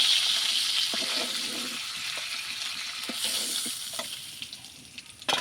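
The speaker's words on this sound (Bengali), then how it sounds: "মাছগুলো সব ভেজে নিয়ে সব ঝোল করবো না" Rohu fish pieces sizzle in a frying pan, a continuous hissing crackle that fades slightly midway, with occasional soft clinks and pops near the end; no talking.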